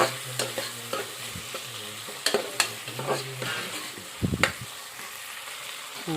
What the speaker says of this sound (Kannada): ನಾನು ಟೊಮೆಟೊ ಹಾಕೊಳಕತ್ತೀನಿ ನೋಡಿರಿ ನೋಡಿರಿ ಇದಕ್ಕೆ ನಾವು ಸ್ವಲ್ಪ ಇವಾಗ ಫ್ರೈ ಮಾಡ್ಕೊತೀನಿ ರೀ ಚೆಂದಾಗಿ